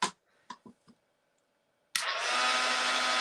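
A dryer blowing on a painted paper-craft piece switches on after a few soft clicks and taps, then roars steadily and loudly up close as a continuous whooshing hum.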